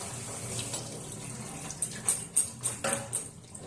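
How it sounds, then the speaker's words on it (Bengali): Tap water runs over vegetables being washed in a kitchen sink, a close steady splash with a few sharper spatters and drips toward the end, no talking. "এরপর আমি সবজিগুলোকে একটু ধুয়ে নিচ্ছি।"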